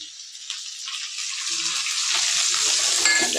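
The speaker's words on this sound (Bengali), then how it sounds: "এবার এর মধ্যে দিয়ে দেব পেঁয়াজ কুচি।" Chopped onion hitting a pan of already-fried potatoes, a steady hiss of sizzling that builds and holds, close and fairly quiet, for a Bengali prawn and banana-flower ghonto.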